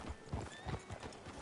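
Horse hooves clip-clop at a steady walking rhythm in Red Dead Redemption 2, close and fairly quiet over a soft background bed.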